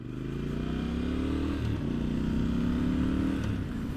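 A 2021 Triumph Scrambler 1200 XE motorcycle engine runs steadily in a smooth, loud, continuous drone, with a brief dip in revs partway through and no voices over it.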